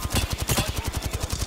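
Rapid automatic gunfire in Apex Legends ranked Arenas, a fast steady burst of repeated shots about every tenth of a second, loud and close with no talking.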